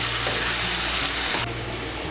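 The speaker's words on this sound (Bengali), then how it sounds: "মিশিয়ে নিয়ে ডাঁটাগুলোকে একটু ভেজে নেব।" Bottle-gourd greens stalks fry with potatoes in a pan, a loud dense close-up sizzle that drops slightly quieter about halfway through, with no voices.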